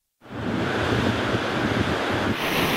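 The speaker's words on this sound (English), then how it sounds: "The soothing sounds of the sea crashing onto the shore" Sea waves roll and crash onto a beach shore, a loud, continuous surf roar mixed with wind noise that starts abruptly after a brief silence.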